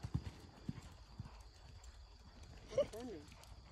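Horse hooves clip-clop on a farm in a few spaced, moderate beats, with people talking nearby and a brief horse whinny near the end.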